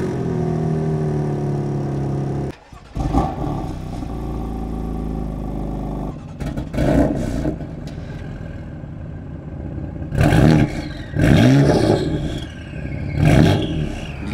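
A 600-horsepower BMW M4 F82, likely in a drifting video game, with a loud, close engine revving and accelerating in repeated surges, dropping briefly between runs, with no talking.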